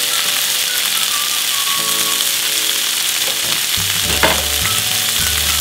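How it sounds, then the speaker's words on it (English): Onions, mushrooms and smoked bacon fry in a pan for pork in cider, giving a steady, close sizzle throughout with a faint tonal hum underneath and a few heavier stirring bursts toward the end. "So I've just browned off a little bit the onions, the mushrooms and the bacon."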